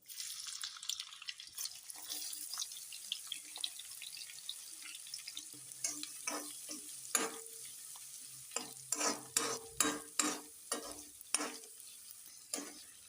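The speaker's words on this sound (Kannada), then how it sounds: "ಈರುಳ್ಳಿ ಕೆಂಪಾಗೋ ತನಕ ಹುರಿಬೇಕು" Onions frying in hot oil with spices for egg sambar, a soft sizzle broken by increasingly frequent scraping stirs of a spatula against the pan, close up and free of speech.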